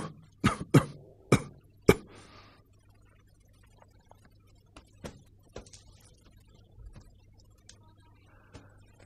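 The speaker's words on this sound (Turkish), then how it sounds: "Öksür." A man coughs several times in quick succession, four sharp, close bursts in a doctor's examination, followed by quieter faint ticks and shuffling in a hushed room.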